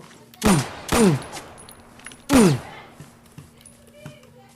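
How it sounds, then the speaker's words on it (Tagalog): Three sharp gunshots, the first two in quick succession and a third after a pause, loud and close, followed by quieter background noise. "O sige, paputukin nyo yung baril nyo."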